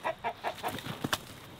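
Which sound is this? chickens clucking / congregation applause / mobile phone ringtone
chickens clucking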